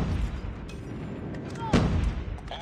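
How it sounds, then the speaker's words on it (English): Airstrike explosions in Call of Duty Mobile during a hardpoint match, heard as a rumbling barrage of blasts and gunfire with one sharp loud crack partway through. "Friendly airstrike incoming."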